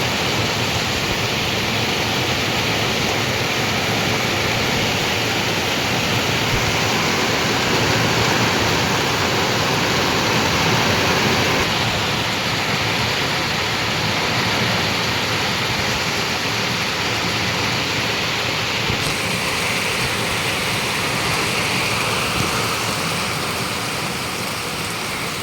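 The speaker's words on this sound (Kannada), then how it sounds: "ಅಷ್ಟು ಜೋರು ಮಳೆ ಹೊರಗಡೆ." Heavy rain pours outside near Kemmannugundi, a dense steady roar of falling water that holds at the same loudness from start to finish, with no voices.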